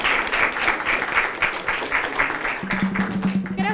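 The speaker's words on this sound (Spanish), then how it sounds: "quisiera darles aplausos a todos" A conference hall audience at an internet governance forum session gives a sustained round of applause, a dense and even clapping that carries through the whole moment, with a low hum near the end.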